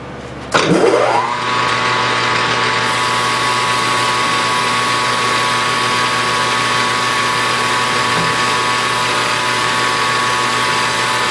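A metal lathe spins up with a rising whine and then runs steadily, loud and close, turning the outside of a Stirling engine displacer, a constant motor hum with tonal drone and faint cutting texture and no talking.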